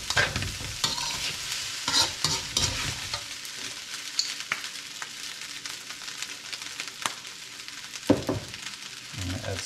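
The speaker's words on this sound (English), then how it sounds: "See how well that rice breaks up when I break it up." Rice being broken up and stirred in a pan for chicken fried rice, with a steady scraping, stirring clatter over a soft sizzle, a few sharper knocks of the utensil along the way.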